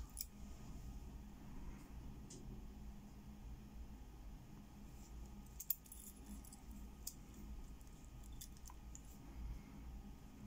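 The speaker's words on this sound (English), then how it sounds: "Then we have some Yale keys." Yale keys, both new and old, jangle and clink softly in a quiet room, with scattered light metallic taps and a couple of sharper clicks over a low background hiss.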